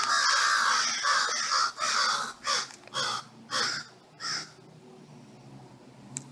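Several crows caw in a cemetery, a run of loud, harsh calls at first that break into separate spaced caws, each one fading. The last ends in near silence with a faint click.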